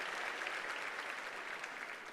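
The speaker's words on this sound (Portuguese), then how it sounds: "pode aplaudir o Senhor mesmo" Church congregation applauding during a worship service, a brief, even burst of many hands clapping at moderate volume with no voices standing out.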